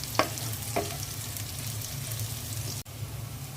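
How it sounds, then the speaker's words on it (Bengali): Pieces of sweet pumpkin go into a hot frying pan: two sharp taps, then an even, close sizzle of frying that continues throughout. "মিষ্টি কুমড়াগুলো দিয়ে দিচ্ছি"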